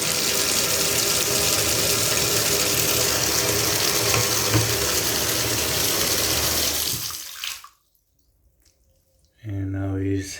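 Water drains from a bathtub fitted with a newly replaced toe-touch stopper: a steady, loud rushing that runs for about seven seconds, then cuts off abruptly into near silence before a brief, different sound near the end.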